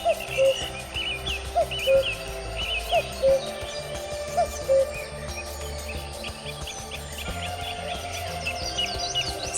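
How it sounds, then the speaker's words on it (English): Tropical rainforest birds sing inside a warm, steamy botanic garden conservatory, with repeated chirps and whistles, some near and some distant, over a humming background and insect-like buzzing. "Enjoy the warm and steamy atmosphere, and the songs of the resident birds, which contribute to the forest experience."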